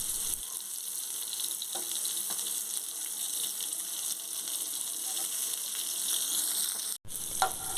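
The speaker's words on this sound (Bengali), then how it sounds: "যে দিকটা ভাজা হয়নি সেগুলো একটু উল্টে পাল্টে আর একটু ভালো করে ভেজে নেব।" Pointed gourd pieces frying in hot oil in a pan, a steady soft sizzle and crackle continuing throughout, with a brief break just before the end.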